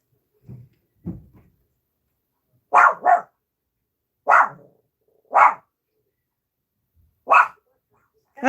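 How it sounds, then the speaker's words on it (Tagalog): A dog barks outside in scattered bursts: two faint low woofs, then louder paired barks repeating at intervals, fairly near against a silent background. "May nagbabark na aso po."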